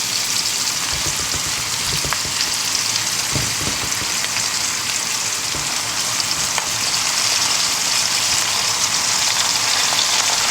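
Whole bok choy sizzles in a hot pan, a steady, bright crackling hiss with a few clunks and stirring knocks early on, continuing unbroken and close.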